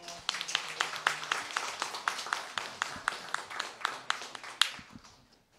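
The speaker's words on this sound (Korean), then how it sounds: "박수." Small group clapping in unison at a church Sunday school kindergarten graduation, about twenty sharp evenly spaced claps in a steady rhythm that stop abruptly near the end.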